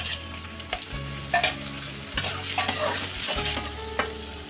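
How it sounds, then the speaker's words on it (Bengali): Chopped onions with green chillies sizzling in a hot pan as a spoon stirs and scrapes them, a steady fry broken by sharp clatters. No one speaks. "পেঁয়াজটা যাতে তাড়াতাড়ি ভাজা হয় তার জন্য আমি দিয়ে দেব 1/2 চামচ নুন"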